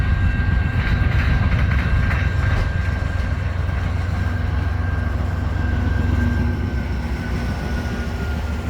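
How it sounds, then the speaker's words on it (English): A slow train rolls steadily past nearby, a continuous loud rumble with faint rhythmic clatter of wheels over the rails and a thin metallic whine. "this train isn't going very fast, but it was passing at this speed for 15 minutes"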